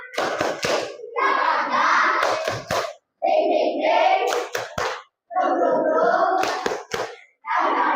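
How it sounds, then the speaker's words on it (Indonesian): Schoolchildren in a classroom performing a rhythmic spirit clap, sharp bursts of hand claps in a set pattern alternating with loud group chanting, repeated over several cycles. "Tepuk semangat."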